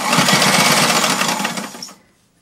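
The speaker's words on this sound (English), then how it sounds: "And sew over it." A sewing machine stitches over piping on a linen slipcover for a Parsons chair, a fast steady whirring rattle close up that runs for about two seconds and then stops abruptly.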